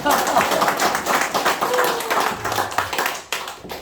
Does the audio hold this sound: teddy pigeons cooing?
no